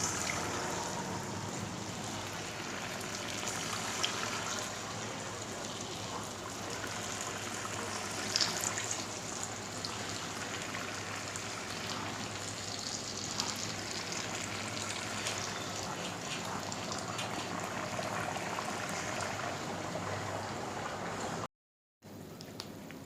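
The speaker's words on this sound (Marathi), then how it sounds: "तर आपलं ऑइल गरम झालंय छान. तर त्याच्यात आपण वडे टाकूयात." Dahi vada batter frying in hot oil gives a steady, broadband sizzle with soft crackles, continuous and close, with no voices.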